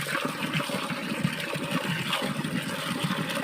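Water from a pipe pouring out of the mouth of a Nandi statue at a temple by Nallamalla Forest, a steady, close gushing splash that runs continuously.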